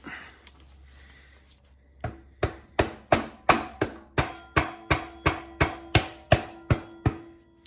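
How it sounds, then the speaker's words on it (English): A rubber mallet taps a motorcycle axle through its spacer on a Honda CRF250X being converted to supermoto, about fifteen sharp, evenly spaced knocks at close range after a quiet pause. "I'm about ready to pop the axle through with my rubber mallet."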